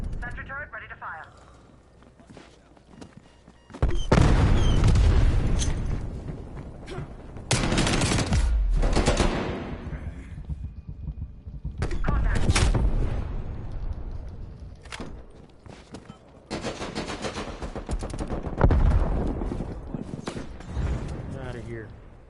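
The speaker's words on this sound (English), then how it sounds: "War machine firing. Sentry turret ready to fire." Video game war machine and sentry turret fire in loud, repeated bursts of heavy gunfire. The volleys separate into several distinct volleys, with quieter gaps between, and a voice talks through parts of it.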